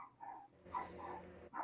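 Young puppies whine and whimper in soft, high, drawn-out cries, several short calls in a row with a pause before a final one, heard faintly in the background.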